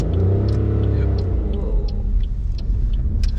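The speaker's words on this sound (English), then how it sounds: "so a bit of gas, handbrake off." A car moves off during a driving lesson as gas is applied and the handbrake released, giving a loud, close engine rumble that rises and then settles.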